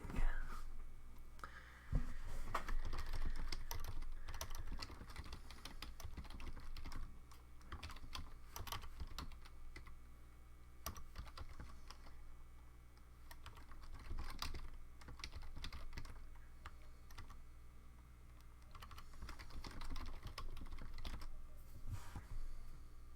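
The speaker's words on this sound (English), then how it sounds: "Typing." Continuous computer keyboard typing clatters close by in dense, uneven runs over a noisy background hum, with occasional faint murmuring but no clear speech.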